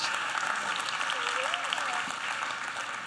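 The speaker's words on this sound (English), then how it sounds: "Give her a huge warm round of applause." A live audience at a magic night performance at YouTube Space LA gives a warm round of applause, a steady dense wash of clapping with a voice speaking over it.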